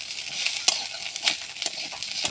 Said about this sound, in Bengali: হালকা একটু ভাজতে হবে মুসুরি ডালটা